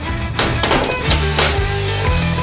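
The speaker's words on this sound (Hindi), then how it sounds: "दरवाजा बंद कर लेंगे।" A giant home-built oven door swings shut after dough-filled moulds for an oversized Twix go inside, giving a couple of close, solid thunks and taps against a low rumbling background.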